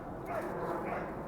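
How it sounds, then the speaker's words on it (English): A dog barks in a Mexico City park on a quiet Christmas Day, the barking brief and somewhat distant beneath a steady outdoor murmur, with faint voices also present. "about as quiet as it will ever be, besides that dog."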